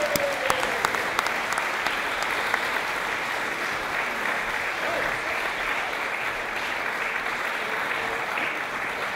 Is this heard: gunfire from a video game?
no